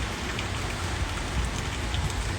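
Steady rain falling outdoors under gray skies, a close, even hiss of drops pattering on surfaces with no pauses and no voices.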